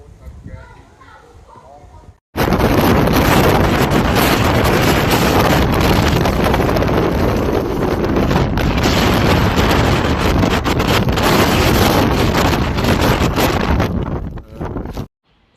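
Typhoon Matmo's powerful winds batter a Chinese city, a roaring, buffeting blast that kicks in suddenly after a quiet start and stays loud and sustained, cutting off shortly before the end.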